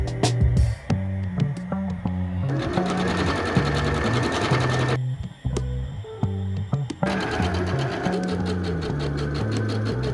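A sewing machine hems the bottom of a simple A-line skirt, running in loud rapid bursts with brief pauses and restarts, close up, with no talk.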